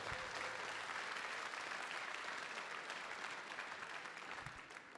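A crowd at a demoscene party hall gives a sustained round of applause, broad steady clapping that holds for several seconds and fades slightly at the end, faint and distant.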